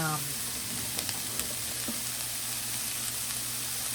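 Diced jalapeno sizzling steadily as it fries in a pan, with a few soft clinks of stirring, a constant close hiss throughout.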